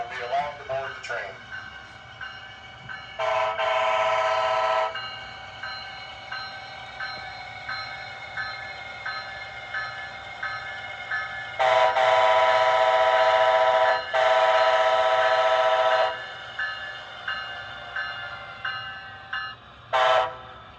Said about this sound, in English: Now arriving on track 2, southbound train 111.